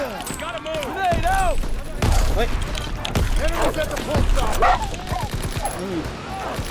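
Rapid bursts of gunfire from Call of Duty: WWII crackle repeatedly beneath excited, shouting voices, with several loud impacts scattered through the clip.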